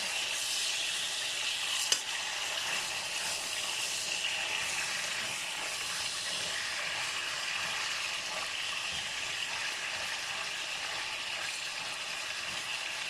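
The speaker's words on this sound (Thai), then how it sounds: "ก็จะทอดด้านนี้อีกเจ็ดนาทีนะ" Turmeric-coated chicken breast frying in hot oil gives off a steady, close sizzle with dense crackling that holds evenly throughout and carries no talk.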